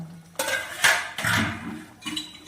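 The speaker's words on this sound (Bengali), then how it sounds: "ঢাকনাটা খুলে নিলাম" Metal lid lifted off a cooking pot of mustard-sauce pabda fish curry, a few close clanks and clinks with brief ringing, then a lighter knock.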